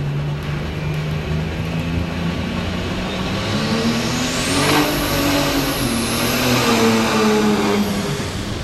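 A heavy pro stock pulling tractor engine roars and revs continuously at a tractor pull, pitch rising and dipping as it strains under load, loud and close.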